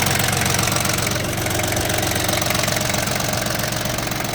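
A Yanmar FX18D tractor's three-cylinder diesel engine idles steadily and evenly, a dense, constant low rumble with a faint knocking pulse, loud and close throughout with no voices.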